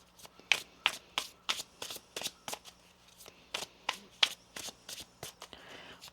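Tarot cards being shuffled in quick bursts, a dozen or so crisp riffling snaps in an irregular rhythm, close and clear against a quiet room.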